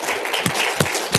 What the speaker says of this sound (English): I'd like to hear another round of applause for everybody collectively